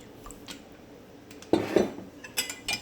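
A spoon mixes sweet potato pudding batter with coconut milk in a bowl, giving a few close clinks and scrapes against the dish in short bursts, with no talking.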